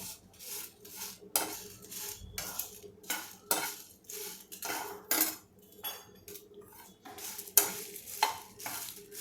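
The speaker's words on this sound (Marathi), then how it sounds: "जेवढा आपण धणे घेतो तेवढ्याच मिरच्या घ्यायच्या आहेत आणि हे असं भाजून घ्यायचं" Kashmiri red chillies dry-roasting in a pan for Madras-style sambar powder, scraped and stirred with a metal spoon in steady rhythmic strokes, faint sizzling between, close with no talking.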